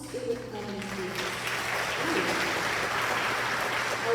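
Concert audience applause in a hall, rising out of a quieter start with faint voices and swelling into a broad, sustained clapping that stays fairly full to the end.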